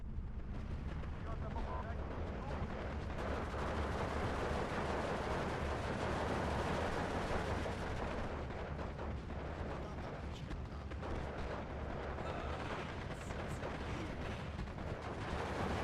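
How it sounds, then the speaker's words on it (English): Katyusha rocket artillery salvos and explosions in the WWII strategy game Steel Division 2: a dense, continuous rumble of blasts and gunfire rolling throughout, with bursts layered over one another at steady loudness. "direct hit from the Katyusha"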